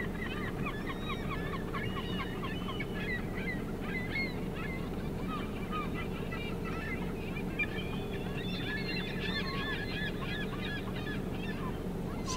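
A flock of seagulls calls continuously in the distance, layered squawks and cries over a steady low background rumble, with no speech.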